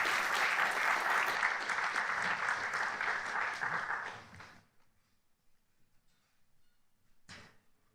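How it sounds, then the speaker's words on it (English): An audience at a physics conference on gauge and string theory claps steadily for about four seconds after a talk, then the applause fades into near silence, followed by a short knock. "clap again for the nice talk."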